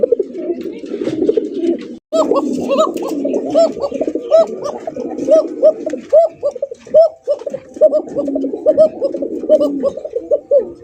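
Pigeons coo steadily at a bird farm, a dense overlapping chorus of low rolling calls from several birds close by, continuing throughout with a brief break near the start.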